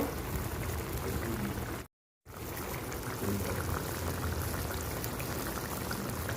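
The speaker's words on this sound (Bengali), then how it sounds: "নারকেলের দুধ দেওয়ার পরে পাঁচ মিনিট আমি খুব ভালো করে ফুটিয়ে নেব" Prawn curry with coconut milk boiling in a clay pot gives a dense, continuous bubbling hiss that fills the clip, broken by one brief silent gap, close and steady.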